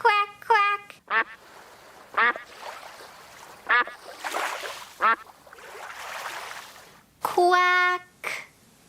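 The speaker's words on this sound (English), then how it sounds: "The duck is quacking." Cartoon duck quacks come in short harmonic bursts several times, alternating with a woman's speech and a voice, ending in a louder run of quacks near the end.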